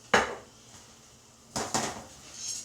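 A spoon stirs spaghetti sauce in a pot, with a sharp clank at the start, then two quick metallic knocks later and soft scraping between them.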